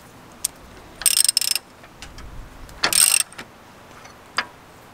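Socket wrench ratcheting on the gear-drive depth control of a TruAg Terraforge strip-till rig, a few short metallic clicking bursts close to the microphone with quiet pauses between them.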